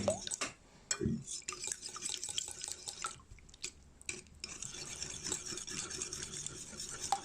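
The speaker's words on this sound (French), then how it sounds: "j'ai pris 2 œufs, 2 œufs entiers, plus 300 g de crème fraîche. Et on va mélanger tout ça." Two whole eggs and 300 g of crème fraîche being stirred together in a baking dish for a courgette gratin, with faint wet clinks and scraping strokes at low level, no talking.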